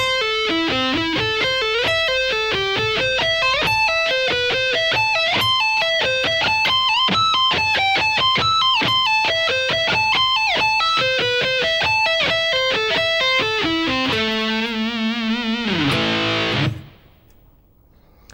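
Electric guitar plays a long extended arpeggio pattern slowly, a steady run of clear single notes rising and falling in sequence for about fifteen seconds, ending on a brief sustained chord that cuts off abruptly.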